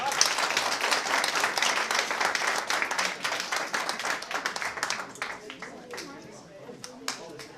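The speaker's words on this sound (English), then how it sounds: "So we'll give a big round of applause." A crowd at a company awards ceremony applauds steadily with dense clapping that thins out toward the end, leaving a few scattered claps.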